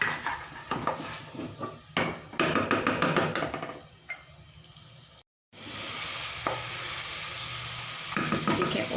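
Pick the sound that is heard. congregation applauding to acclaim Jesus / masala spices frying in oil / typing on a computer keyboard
masala spices frying in oil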